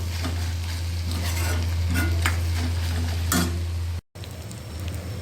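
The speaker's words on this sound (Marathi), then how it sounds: "त्याच्यामध्ये आपण टमॅटो टाकून घेऊया तो दोन मिनिटासाठी आपण परतून घेऊया" Chopped tomato sautéing with onion in a pan, a continuous close sizzle with scraping stirs and a few sharp spoon clicks against the pan, a steady low hum beneath, and a brief dropout near the end.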